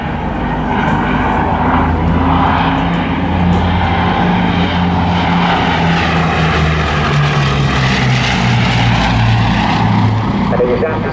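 Bristol Blenheim bomber at the Southport airshow, its piston engines giving a loud, steady droning propeller roar throughout, with a commentator's voice talking over it.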